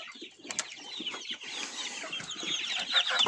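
Rooster and young chickens of several breeds clucking and calling together in a farmyard, a busy, overlapping stream of bird sounds that stays fairly close and steady throughout, with no talking.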